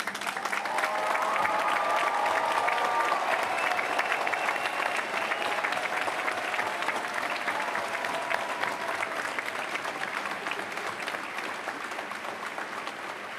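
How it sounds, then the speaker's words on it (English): A large graduation audience gives sustained applause, a dense, even wash of clapping that holds steady for the whole stretch and tapers only slightly at the end. "give them a round of applause and thanks for everything they've done you on this journey"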